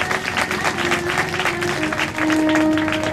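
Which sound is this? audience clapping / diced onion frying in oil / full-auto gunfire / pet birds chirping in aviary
audience clapping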